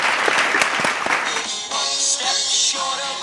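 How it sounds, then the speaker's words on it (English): An audience claps for Kelly at a memorabilia event, loud close applause for about a second and a half before giving way to voices and tonal sounds. "let's give Kelly a round of applause"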